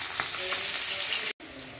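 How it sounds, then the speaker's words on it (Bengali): Hilsa fish pieces frying in a pan give a steady, close hiss of sizzling oil with faint crackles, broken once by a brief gap of silence. "মাছগুলো ভালো করে একটু ভেজে নিলাম।"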